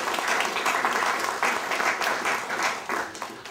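Audience applause at a government welcoming ceremony in the Bahamas, a steady wash of many hands clapping with a few louder bursts, continuing evenly throughout.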